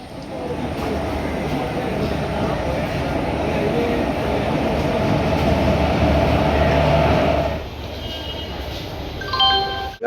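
A train arriving gives a loud, steady rumble and clatter of rolling wheels from on board, which eases off toward the end as high squeals and tones of braking appear.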